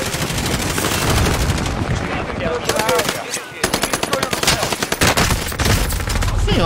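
Dense, loud bursts of automatic gunfire rattle continuously from the video game Warzone, with rapid shots and a brief lull before the firing resumes.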